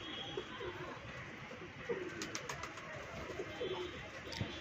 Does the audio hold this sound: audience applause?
no